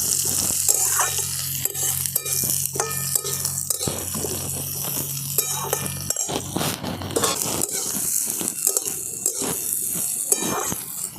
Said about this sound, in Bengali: তো সব একসঙ্গে একটু ভাজা ভাজা করে নিচ্ছি।